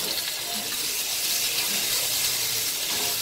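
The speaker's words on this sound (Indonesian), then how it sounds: "kita tumis sampai layu" Sliced tomatoes sautéing in a pan for Makassar-style pisang peppe, giving a steady, fairly loud broadband sizzle that holds evenly throughout with no talk over it.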